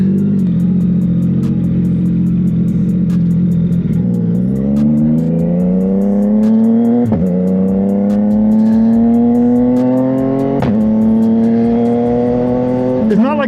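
CFMoto 675SS sport bike with an inline-three engine accelerating hard through the gears, its loud rising engine whine climbing in pitch, then dropping briefly at each shift, repeated several times up close.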